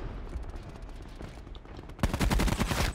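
Rapid automatic fire from the Swat RFT assault rifle in Black Ops 4, a dense, loud burst of shots that grows heavier in the final second.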